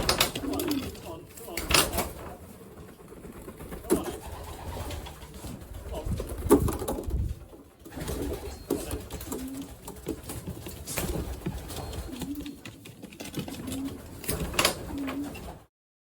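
Racing pigeons coo repeatedly near a home loft as they return from the first young bird race of the season, soft rounded calls recurring throughout amid light background noise and scattered rustling.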